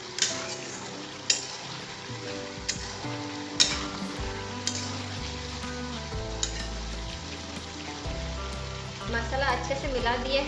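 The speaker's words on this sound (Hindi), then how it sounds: "प्याज के साथ चिकन अच्छे से भुंजा किया है, तो हम इसमें मसाला ऐड करेंगे" Chicken pieces with onions and a prepared spice paste frying in a pan for a dahi chicken curry, a steady dense sizzle broken by periodic scraping and stirring knocks, close and fairly loud with no talk.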